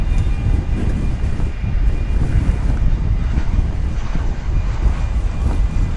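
An airliner built in 1992 passes at DFW Airport with a loud, broad, steady roar of jet engines and rushing air mixed with wind buffeting on the microphone. No voices are heard.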